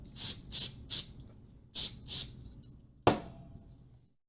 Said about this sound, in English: We'll spray this side.